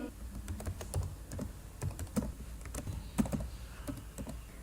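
Computer keyboard keys are tapped quickly and irregularly while an email address is entered into business software, producing sharp, close clicks over a faint room background with no talking.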